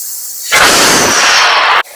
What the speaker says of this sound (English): So today from the amazing air cannon, I am going to be launching a flashlight.